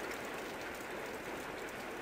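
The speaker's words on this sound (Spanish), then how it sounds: "está lloviendo, digo, para complicar la inundación" Steady rain in the video game Limbo, an even hiss of falling water with no voices.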